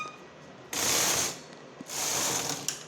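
A hand-operated knitting machine carriage runs a row while making a V-neck border, giving two loud, rattling mechanical sweeps with a short pause between them and no talk.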